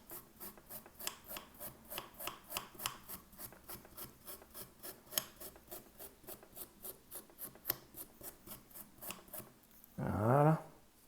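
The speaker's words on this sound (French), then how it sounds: "On n'oublie pas, surtout pas, de nettoyer le radiateur" Brushing out a clogged gaming PC radiator, a steady series of quick rhythmic scrubbing strokes, close and fairly quiet, ending in a short louder whirring burst.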